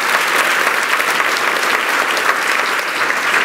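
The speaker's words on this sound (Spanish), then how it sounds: "Y al que nos orienta, démosle un aplauso con todo este sudor que tenemos hoy." A church congregation claps loudly and continuously, a dense wash of many hands close by with no pauses for the whole stretch.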